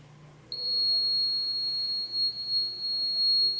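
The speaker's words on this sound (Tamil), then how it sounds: "இப்போ என்னது அலாரம் அடிக்குது" A shrill, steady electronic alarm buzzer from a simple heat sensor starts abruptly when triggered by fire and keeps sounding, loud and continuous, with slight wavering.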